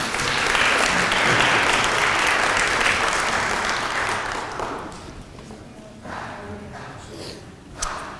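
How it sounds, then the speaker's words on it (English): Audience applause after a lunchtime talk on a big-tree documentary, a loud sustained burst of clapping that gradually fades. A few scattered claps and bumps follow as a voice begins speaking. "can we give him a round of applause?"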